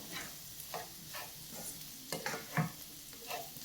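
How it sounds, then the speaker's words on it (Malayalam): Garlic and green chilies are stirred as they fry in a pan for potato mezhukupuratti, with soft scraping strokes at irregular intervals over a quiet, low sizzle. "ഇനി ഇതെല്ലാം കൂടെ നമുക്ക് ഇളക്കിയിട്ട് മിക്സ് ചെയ്തെടുക്കാം."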